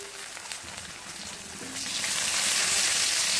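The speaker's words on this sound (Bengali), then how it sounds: "ভালো করে ভেজে নিচ্ছি" Bay leaves, chopped ginger and chopped chili frying in oil for vegetarian mung dal, a steady crackling sizzle that swells louder and hissier in the second half, with no talk.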